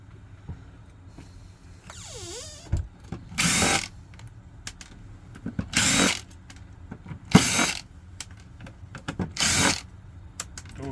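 Power tool backing screws out of a CD or floppy disk drive, four short whirring bursts separated by pauses, close and moderately loud over quiet handling sounds.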